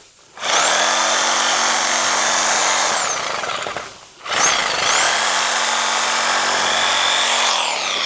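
A reciprocating saw cutting a tree branch runs loud and steady in two long bursts, a brief pause between them, its harsh buzzing whine close up.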